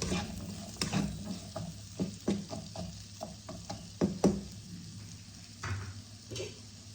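Poha (flattened rice) being fried and stirred in a pan, a soft steady sizzle broken by repeated scraping strokes of a spoon against the metal, close and moderately quiet, with no talking.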